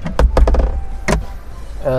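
Closed storage compartment in a 2023 Honda BR-V Prestige springs open abruptly with no soft-open, a few sharp plastic clacks and a click, close, followed by a short burst of speech.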